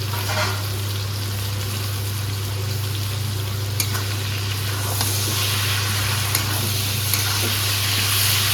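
Pieces of free-range desi chicken go into a pan for a thin village-style curry, giving a steady broad sizzle with scattered clicks of stirring over a constant low hum, moderately close and with no talk.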